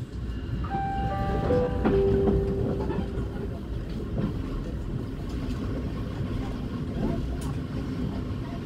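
The Bima passenger train idles at Purwokerto station, a low steady rumble with brief tonal whines and clanks, while people talk faintly nearby.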